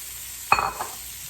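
Broccoli is tossed into butter in a pan over medium-high heat, giving a short burst of sizzle and a quick stirring scrape that then settles to a faint, quiet hiss.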